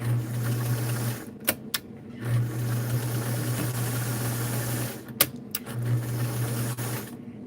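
A White Zigzag sewing machine, Model 782, runs in three steady bursts of rapid stitching with short pauses between, with sharp clicks and knocks as it is stopped and adjusted, close up and without talk.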